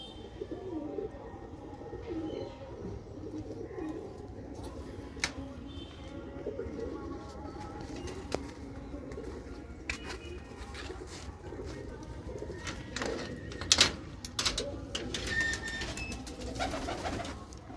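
Pigeons coo steadily at a pigeon keeper's loft in a Punjabi village, with soft overlapping calls and scattered chirps against a constant low murmur of birds, moderately near and continuous throughout.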